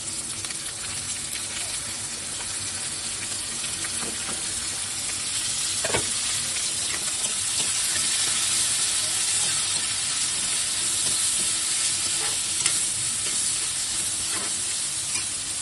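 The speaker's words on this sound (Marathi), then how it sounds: "तेलात एकदम गरम झाल्याच्या नंतर मी आता याच्यामध्ये 3 मोठे कांदे कापून घेतलेले आहेत ते ऍड करणार आहे" Three large chopped onions fry in very hot oil for keema masala, a steady close sizzle with occasional stirring scrapes and a brief louder crackle burst as they settle into the pan.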